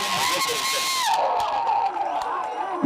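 Large crowd at a Kamal Haasan political rally in Gingee cheering and shouting in a continuous, dense roar, with whoops and a sustained tone running through the noise.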